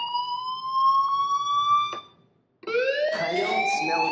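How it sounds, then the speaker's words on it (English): A fire alarm in the video game Life is Strange sounds a loud, steady electronic tone, cuts out briefly, then resumes in a harsher, wavering form. "do you hear that fire alarm?"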